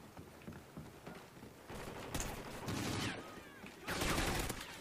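Gunfire from the Call of Duty Ghosts video game during an online multiplayer match, with several bursts of rapid shots and louder volleys toward the end over a steady game backdrop.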